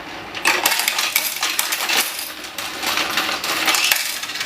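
An EUROX 520 coin counting machine counts a batch of Thai baht coins, making a loud, dense metallic clatter and jingle of coins tumbling rapidly and continuously.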